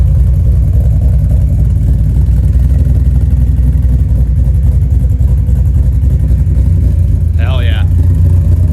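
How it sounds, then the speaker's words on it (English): A supercharged Ford Mustang with a ghost cam idles loud and close with a steady, deep, throbbing rumble that fills the whole stretch, with a brief whine near the end. "I'm gonna let it warm up a little bit, let you guys hear the ghost cam."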